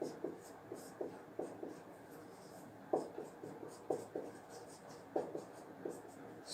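Chalk or marker writing on a board during a physics lesson on mirror optics, a quiet scratchy run of short strokes in an irregular rhythm, close and faint, with no talking over it.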